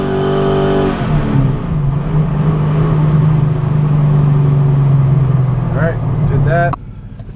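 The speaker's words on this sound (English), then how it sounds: "I'm gonna heat up the tires real quick" A Procharged 5.7 Challenger R/T engine held at high revs to heat the tires, a loud, steady droning roar that shifts pitch briefly before cutting off sharply near the end.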